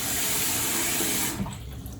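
Water runs steadily from a kitchen tap into a sink as someone prepares potatoes, a broad continuous rush that cuts off abruptly near the end, leaving a softer trickle.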